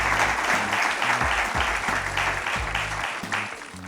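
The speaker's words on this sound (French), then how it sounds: "Sous vos applaudissements, voici James, le mari des Grâces" A TV studio audience on a French game show claps steadily, a dense, even roar of hands that holds throughout and tapers slightly at the end.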